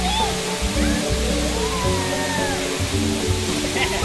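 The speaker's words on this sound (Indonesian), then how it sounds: "ngisor persis sih, ngisor persis air terjun" A waterfall at a mountain tourist spot, heard from right at its base, roars with a dense, steady rush of falling water, while people talk faintly underneath.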